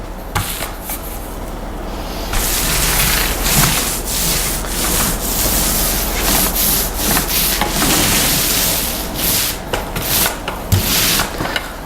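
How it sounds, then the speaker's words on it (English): A paint roller with a lightly loaded pad rolled softly across an interior wall, making a continuous dry rubbing swish with repeated stroke surges and no speech. "Nice soft touch, and my roller pad doesn't have a lot of paint on it"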